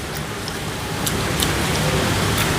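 Steady rain falling outdoors, a dense even hiss that swells slightly louder partway through, with no voices.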